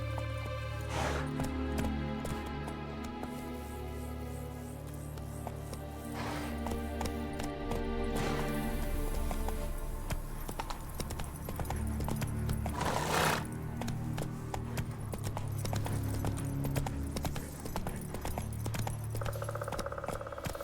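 Roach the horse gallops in The Witcher 3, a steady clip-clop of hooves pounding continuously under game music and ambience, with a brief neigh.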